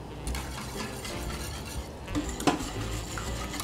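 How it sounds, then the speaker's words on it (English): A spoon stirs a custard of heavy cream, egg yolks and sugar in a pot on the heat, giving steady soft scraping with light clinks against the metal, close by and with no talk. "And I keep stirring"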